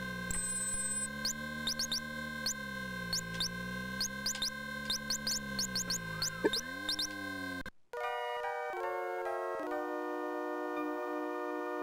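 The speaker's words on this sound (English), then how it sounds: "The low fuel alarm is on." A low fuel alarm from the Final Fantasy VI video game, played in an emulator, sounds as a steady electronic tone with rapid repeated beeps over game music, then shifts to a stepped melodic jingle, fairly loud.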